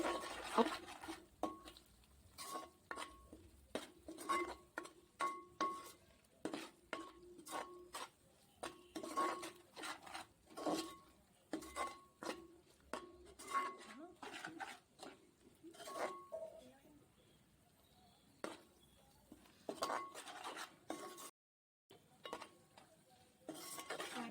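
A spoon stirs and scrapes spicy fish curry gravy around a pan, frying it evenly, with steady, repeated clinks and scrapes of metal against the pan and no talking; the sound briefly stops before resuming.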